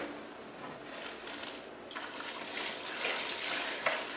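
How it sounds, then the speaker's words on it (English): Chicken broth for Vietnamese phở gà poured from one pot through a strainer into another, a steady liquid splash and trickle that grows louder and fuller partway through, close by with no talking. "I'm going to pour it into another pot and have your strainer so that way it'll catch everything else"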